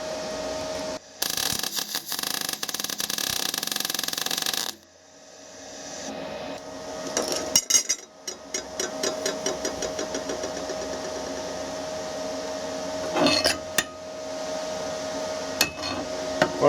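MIG spot welding on 1mm steel plate with an R-Tech MIG180 welder: bursts of harsh broadband crackle and buzz, one long weld followed by shorter pulsed bursts and a few sharp ticks, close and fairly loud, with no talk.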